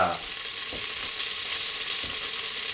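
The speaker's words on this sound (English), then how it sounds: "to this pan we are going to add a little under a tablespoon of butter" Under a tablespoon of butter sizzles in a pan before plain white rice is cooked, a steady close hiss with a couple of faint clicks, heard on its own without talk.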